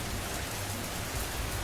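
Heavy rain pours down steadily during a nighttime storm in a Hindi cartoon, a dense, unbroken hiss of falling water with no voices.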